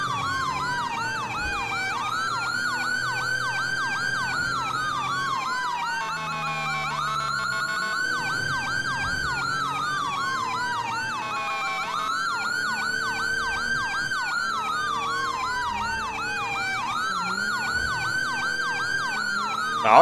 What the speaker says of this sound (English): Sorry the sirens are so loud.